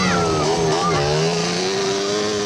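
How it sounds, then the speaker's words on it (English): A Yamaha Banshee quad bike races past at a desert rally event, its loud two-stroke engine whining and shifting pitch as it flies close by, with a commentator talking over it. "Another of the Banshees comes flying through."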